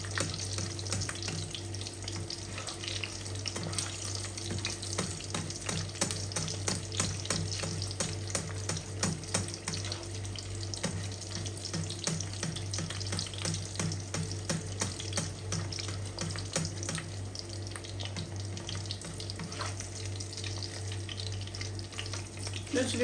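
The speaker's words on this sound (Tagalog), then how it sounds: "Sige ba tineturn yung itlog pagka naluto na yung ilalim niya?" Eggs frying in a pan at breakfast, a steady crackling sizzle that runs throughout at moderate level, alone without talk, with a constant low hum underneath.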